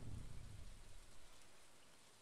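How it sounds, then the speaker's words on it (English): Soft, steady rainfall from the video game Stardew Valley, a low rumbling patter that fades slightly toward the end, with no voices. "I love the sound of the rain in Stardew."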